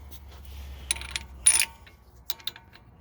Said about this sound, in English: now I just gotta put my nut and washer back on here